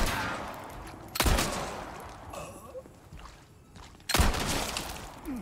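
Pistol gunfire in the Resident Evil 4 Remake, two loud sharp shots a few seconds apart over a murky game backdrop of rumble and faint ambience.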